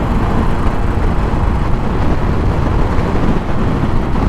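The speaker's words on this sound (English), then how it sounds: "it's a brand new Harley, brand new 1200 Sportster" A new 2021 Harley-Davidson Iron Sportster 1200 motorcycle cruising on back roads, its engine a steady low rumble mixed with heavy wind noise, continuous and loud throughout.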